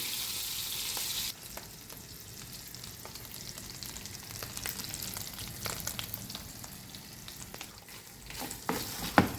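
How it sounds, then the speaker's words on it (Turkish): Tomato paste and pepper paste frying in butter in a pan, a steady close sizzle with soft crackles and a few sharper pops, no voices. "Bunları tereyağda güzel biraz kavuruyoruz."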